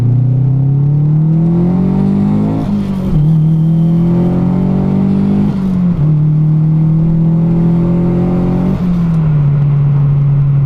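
A turbocharged Mazda MX-5 accelerates hard, its loud engine note climbing steadily in pitch through each gear before dropping briefly at every shift, three shifts in all, heard close from inside the car.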